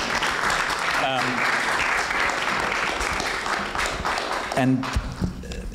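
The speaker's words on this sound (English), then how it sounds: "Maybe just a welcome applause, because he is a decider" An audience applauds steadily throughout, with a person speaking over the clapping.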